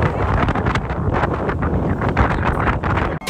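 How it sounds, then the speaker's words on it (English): Strong wind buffeting a microphone outdoors on a Turks and Caicos beach, loud continuous rumbling gusts that pulse and roar throughout, briefly dropping out at the very end. "Today was windier than it was yesterday"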